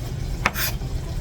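Minced garlic and chopped onion frying in a pan for soup, a steady low sizzle with a couple of sharp stirring scrapes and a brief hiss of fresh sizzling in between.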